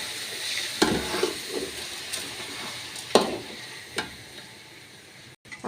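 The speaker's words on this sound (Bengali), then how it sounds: "পোলাওর চাউলটা আমরা এর পর্যায়ে একটু ভেজে নিব।" Polau rice being stirred and fried with vegetables in a pan, a soft continuous sizzle broken by a few sharp scraping clicks of the spoon against the pan, close and fairly quiet.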